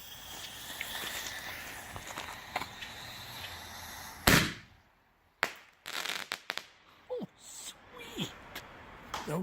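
Firehawk Little Evil Shells fireworks burst outdoors, a sharp loud bang followed by several more cracking reports at uneven intervals over faint background noise.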